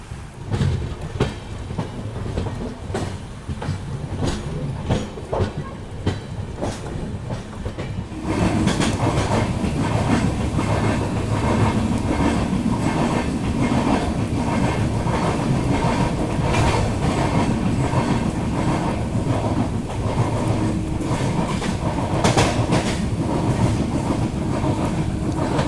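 Mandovi Express running from Kankavli railway station in heavy rain, with a continuous clickety-clack of wheels on rails and a dense rushing roar that swells louder and fuller after the first few seconds, close and steady throughout.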